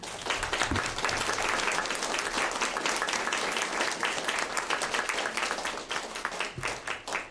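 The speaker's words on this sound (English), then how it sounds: "Let's give them a nice round of applause." An audience at a candidates forum applauds warmly, a dense steady wash of clapping that holds for several seconds before thinning out at the end.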